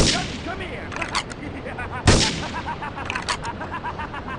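Gunshots in the iOS version of GTA 3 crack repeatedly through a busy game mix, with one especially loud, sharp blast near the middle standing out against the noise.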